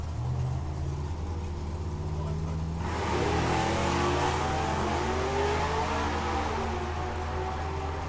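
A 1948 Austin Devon gasser and a 1964 Dodge Dart at a drag race, engines rumbling steadily in the distance and then swelling into louder, rougher revving, with a voice over the top.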